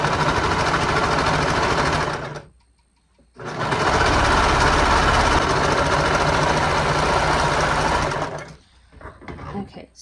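Sewing machine running in two long continuous bursts, stitching the second side seam of a sustainable-cloth romper, with a brief pause between runs and a quiet tail at the end.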